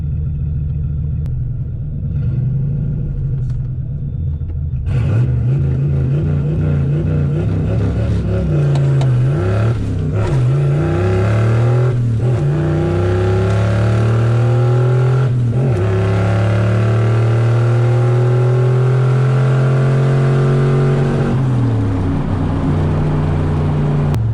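A turbocharged Foxbody car at a Friday night test-and-tune drag event revs hard and loud through a run, its engine note rising and falling with a few sharp pops breaking through the steady roar.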